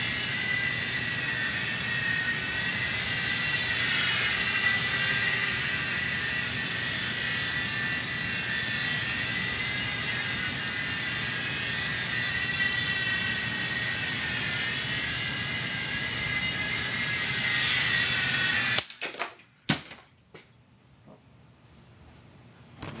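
An E-Flite Blade MCX micro RC helicopter flies close by with a continuous high whine, steady for most of the time before cutting out abruptly near the end, followed by a few faint clicks.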